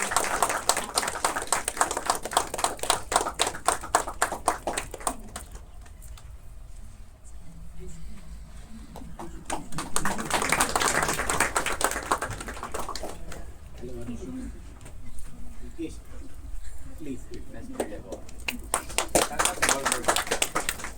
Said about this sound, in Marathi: टाळ्या वाजवा मंडळी केक कटिंगच्या वेळेला.